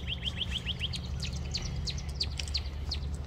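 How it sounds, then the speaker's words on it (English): Birds chirp outdoors on a hot day, quick repeated high tweets and trills in rapid bursts from nearby, over a low steady background hum, with no speech. "You hear the birds chirping?"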